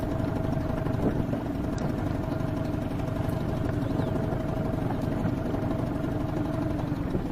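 Small Storm 7 outboard motor on an inflatable pontoon boat runs steadily at low trolling revs, a continuous close droning hum with no talk.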